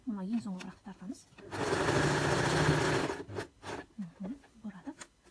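A sewing machine stitches patchwork fabric in one steady burst lasting about a second and a half, with someone talking before and after it.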